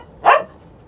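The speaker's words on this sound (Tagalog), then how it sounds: "Wala nang tatahol-tahol dyan." A single sharp dog bark rings out close by in Saudi Arabia, one short burst against a quiet background with no one talking.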